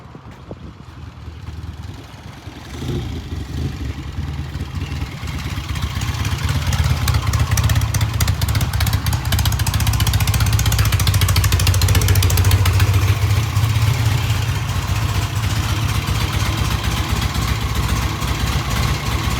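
A motorcycle engine runs steadily after an idle adjustment, rising in level as the bike returns from a test ride around the block, then holding a loud, continuous idle with some mechanical clatter.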